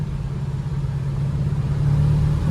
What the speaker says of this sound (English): I can hear that carburetor. It's got a Edelbrock carburetor.